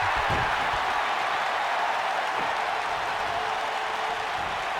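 A large wrestling crowd in the video game WWE 2K19 roars and cheers continuously, a dense wall of noise swelling slightly, heard alone without commentary.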